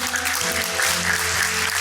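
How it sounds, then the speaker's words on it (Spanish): Brief applause from a gathered audience, a short burst of steady clapping with no voice over it. "Un fuerte el aplauso."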